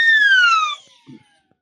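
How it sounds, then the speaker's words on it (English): An Acme siren whistle of the kind used by British police gives one loud, close blast. Its shrill pitch slides downward and fades within about a second, and a brief faint noise follows. "The Acme siren. This is what the British cops use."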